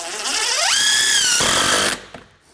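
A power drill drives a screw behind door trim while hanging a pre-hung door, its motor whining up in pitch and holding a loud steady squeal before stopping abruptly, followed by a faint tap.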